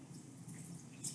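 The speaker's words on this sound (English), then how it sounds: "So I'm actually gonna drain out the water a little bit because there's actually too much water." Excess water tipped out of a bowl of chicken-flavor ramen noodles cooked in the microwave, a faint, brief trickle with a few drips toward the end.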